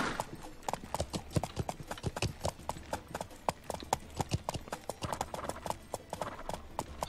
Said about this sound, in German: Soll ich mein Pferd stehen lassen oder wollen wir noch weiter reiten?